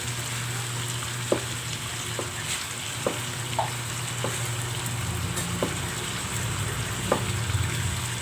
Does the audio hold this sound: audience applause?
no